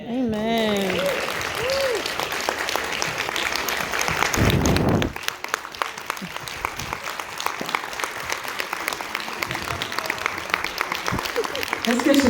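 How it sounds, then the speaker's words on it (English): A crowd at a women's conference breaks into sustained, dense applause that carries on steadily, with a few voices mixed in near the start. "Let's give Chanel another round of applause."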